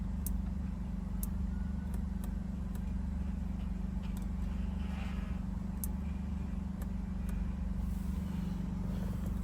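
A cold-started 2018 Alfa Romeo Stelvio Quadrifoglio idles in sport mode, giving a low, steady, fairly quiet engine hum with faint clicks scattered over it.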